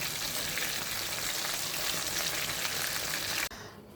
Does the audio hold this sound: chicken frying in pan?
yes